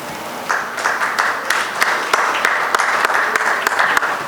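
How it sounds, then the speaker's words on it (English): A conference audience at a Mumbai trade conclave applauds a guest from Zimbabwe, a steady dense crowd clapping with sharp individual claps standing out, sustained and fairly loud throughout. "Big round of applause to our guest from Zimbabwe, Mr. Tsakatsa Ishmael Humphrey."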